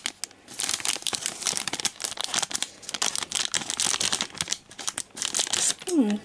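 Plastic blind bag of Thomas & Friends Minis being crinkled and torn open nearby, with dense rustling and crackling throughout and brief speech at the end.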